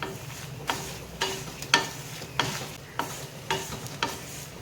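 Peanuts, urad dal, dried chillies and curry leaves are dry-roasted in a pan, with a soft sizzle and regular scraping strokes of a spoon about every half second.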